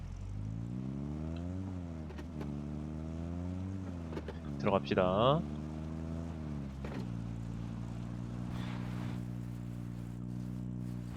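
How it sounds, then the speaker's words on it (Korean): A car engine drones steadily while driving in the PUBG battle royale game, its harmonic hum shifting pitch as the vehicle speeds up and slows down, with a brief louder burst midway and a voice speaking over it. "야 근데 이거 자동차 뭔가 느낌이 되게 좋아 운전하는 게"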